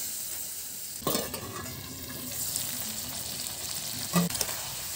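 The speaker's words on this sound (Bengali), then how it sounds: "মাংসটা কষার পর যখন মাংস থেকে তেল ছেড়ে আসবে" Meat stir-fried with spices in a Bengali home-style pan, giving a steady close sizzle with a few louder scraping stirs partway through and near the end, no talking.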